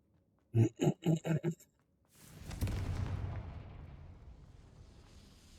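A Confringo fire spell detonates in the video game Hogwarts Legacy: after a brief pulsing burst of magic, a loud deep boom erupts and rolls into a long rumbling roar that gradually fades, no voices.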